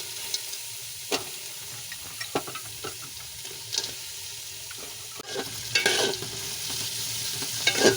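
Carrots and raisins are stirred in a pan for butter pulao, with soft, irregular scrapes and clicks over a low sizzle that grows louder and busier toward the end.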